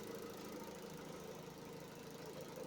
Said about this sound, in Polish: Gdyby nie te stukające wtryskiwacze od gazu